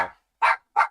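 A dog barks three times, one bark fading out at the start, then two sharp, loud barks evenly spaced close by, with silence between and no talk.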